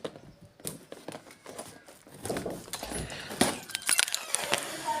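Someone's keys jangle and clink while a new Huawei H122-373 5G router box is being opened, scattered metallic jingles growing busier and louder toward the end, fairly close with no talking.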